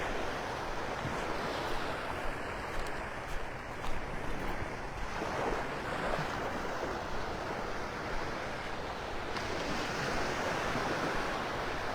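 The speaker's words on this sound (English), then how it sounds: "You see the waves kind of rippling over it." Ocean waves wash onto the beach at Delnor-Wiggins in North Naples, Florida, in a continuous soft roar with gentle surges, blended with light wind rumble on the microphone.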